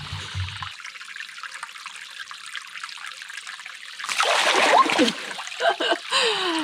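Water trickles steadily in a clear riverbed pool, then bursts of close splashing and sloshing break in as someone moves through it.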